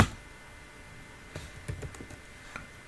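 Several quick computer keyboard keystrokes, entered as network switch commands, tap out near and fairly soft in a short irregular burst over a quiet room background.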